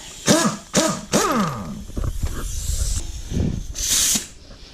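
An impact wrench on a Ford Mustang crank bolt gives three loud, sharp rattling bursts in quick succession, followed by quieter clattering and a final hissing rush.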